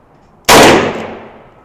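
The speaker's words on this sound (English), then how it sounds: "And we're shooting the 357 Magnum with it." A single loud, sharp gunshot from a Taurus 692 revolver firing a .357 Magnum round with a 125-grain XTP bullet, bursting out after a moment of quiet and then decaying over about a second, with no talk.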